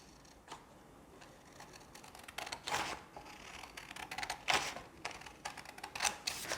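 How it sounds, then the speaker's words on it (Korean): Scissors cutting paper, a series of crisp snipping clicks that start sparse and grow more frequent and louder, close by with no talk. "목사님도 가위로 오리도록 하겠습니다."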